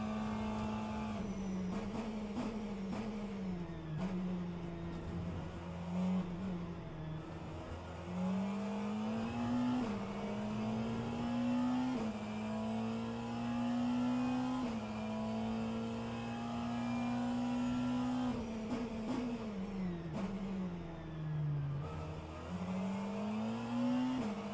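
McLaren race car in a virtual endurance racing game, its engine droning steadily and loudly throughout with pitch rising and falling through gear changes and corners, no talking.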